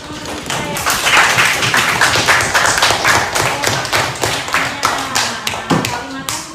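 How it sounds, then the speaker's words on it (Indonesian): A classroom of students clapping for their classmates, close and loud, with uneven overlapping claps and some taps and thumps, steady for several seconds. "Kita beri tepuk tangan dulu untuk teman-teman kita ya."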